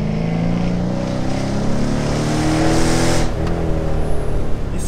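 A Dodge Challenger R/T with a 6.2-litre V8 revs loudly and steadily up close, a deep sustained engine roar building slightly before easing off, with no voices over it.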